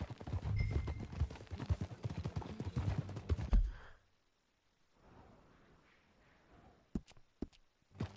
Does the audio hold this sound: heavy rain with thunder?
no